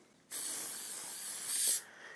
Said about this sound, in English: what I'm going to do is I'm just going to spray this down